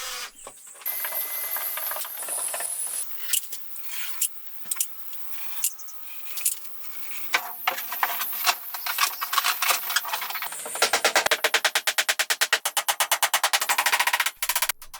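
Nails are driven through aluminum facing into camper cabinets. Sharp metallic impacts come in short bursts, ending in a fast, closely spaced run of loud hits near the end.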